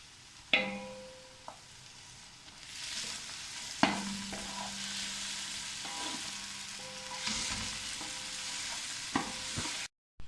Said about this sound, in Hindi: इसमें अब 2 अदर टमाटर जो है वो मैं शामिल कर रही हूँ।